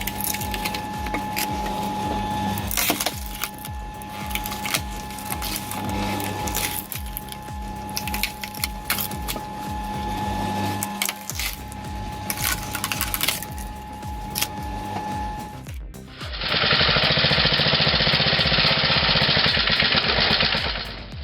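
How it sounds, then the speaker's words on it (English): A wood splitter machine processing firewood runs steadily, with repeated cracking and splintering of wood over a motor drone, then a louder, sustained roaring grind during the last few seconds. "This wood splitter, with its sturdy frame and stable motor, is all about precision."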